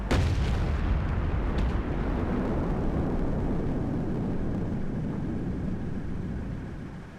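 A BL-10 tank gun in a video game fires a single loud, close shot with a sharp attack, then a long rumbling decay that fades over several seconds.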